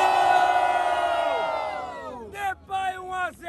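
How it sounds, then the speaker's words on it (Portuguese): Crowd cheering and yelling at a Brazilian freestyle rap battle, Batalha da Zil, a loud sustained roar that fades, then sharp bursts of whoops and shouts. "barulho pra quem gostou das rimas de Depay"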